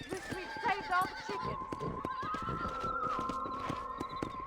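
A horse in the video game Red Dead Redemption whinnies loudly in a wavering call, over hoof clip-clops and game sounds, while someone talks in the background.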